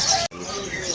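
Birds at a busy outdoor pet market chirp and coo at close range, a dense steady chatter cut briefly by a sudden drop, with people talking nearby.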